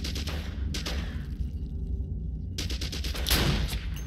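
Weapon gunfire in the video game The Royal Marines Commando, heavy continuous automatic bursts that pause briefly mid-way and then resume, loud and close.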